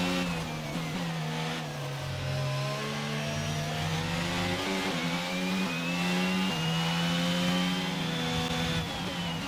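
Formula 1 car engines from the F1 22 racing game, several cars on a slippery track, a continuous loud mid-pitched engine drone with rising and falling revs across the whole stretch, no talking.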